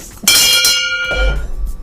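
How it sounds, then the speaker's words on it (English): A bell is struck once in a radio studio, giving a loud, bright ring that decays over about a second. A dull thump follows it. "I need to ring the bell for Francis."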